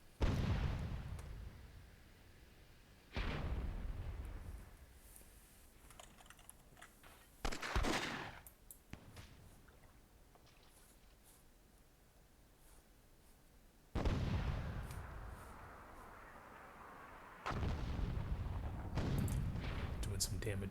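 Cannon fire and gunshots in the Myth II Soulblighter video game, several loud sharp bursts and blasts spaced through the clip with quieter stretches between, alongside a commentator talking.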